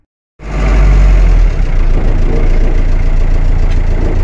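A car engine turns over and settles into a loud, close idle, a steady low rumble with a faint knocking texture that runs without a break after the start.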